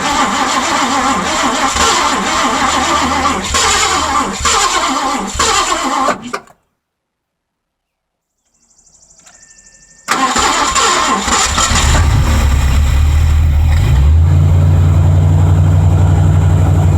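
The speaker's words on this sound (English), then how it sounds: "so as you can see, the car actually runs and is holding an idle." A V8-swapped Mazda RX-7 engine runs loud and rough, cuts out to near silence with a whirring starter, then cranks and fires back up, settling into a deep, steady idle up close.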